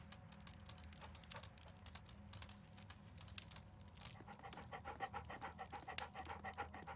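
A dog in the Sherlock Holmes: Crimes & Punishments video game pants rapidly while following a scent, a quiet steady rhythm of quick breaths that grows stronger toward the end.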